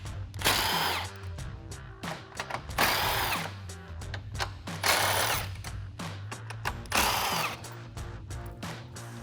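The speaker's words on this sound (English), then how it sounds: "I'm switching over to an impact gun and a deep socket" An impact gun spins a deep socket on the 10mm grille bolts of a 2014-2015 Chevrolet Silverado 1500, firing in four loud, rattling bursts of hammering about two seconds apart, with short pauses between them.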